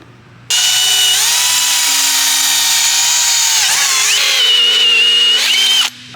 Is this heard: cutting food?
no